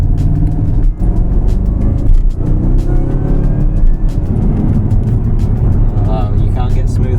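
Tuned Jaguar car held in third gear and accelerating, a loud, steady engine note with rising harmonics heard from inside, while a voice talks throughout.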